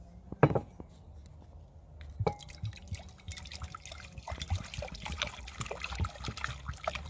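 Water poured into a pan to make a water bath for tempering chocolate, a trickling, dripping flow in a home kitchen that starts softly and builds into a steady pour, close to the microphone with no talking.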